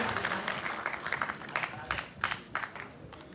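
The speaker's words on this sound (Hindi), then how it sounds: "एक बार जोरदार तालियों के साथ स्वागत कीजिए श्री मलूक नागर साहब का।" Scattered audience clapping welcomes MP Malook Nagar at the CSS Day 2023 event at the Ambedkar International Centre in Delhi, uneven bursts of moderate loudness with some background murmur.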